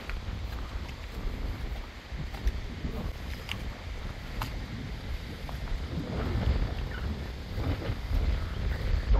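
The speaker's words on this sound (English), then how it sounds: "It's very windy today." Steady wind roars across a lakeside dock at riverside cabins in Lanexa, Virginia, with deep, continuous buffeting that swells slightly toward the end and no talk.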